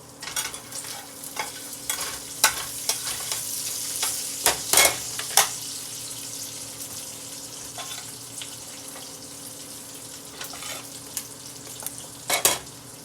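An egg frying in a pan sizzles and crackles steadily, with sharp pops and spatula taps scattered throughout, louder bursts near the middle and the end.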